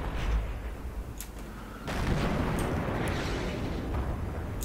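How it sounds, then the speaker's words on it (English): Artillery fire in World of Tanks: a rumbling, dense roar of heavy shelling with a sharper blast surge partway through, mid-distance and continuous with scattered cracks on top. "Oh, there's another artillery."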